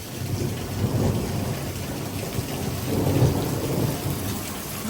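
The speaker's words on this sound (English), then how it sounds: "This is definitely a severe thunderstorm." Heavy rain pours steadily during a severe thunderstorm with wind gusts near 30 mph, while two low rumbles of thunder swell and fade beneath the constant hiss of the downpour.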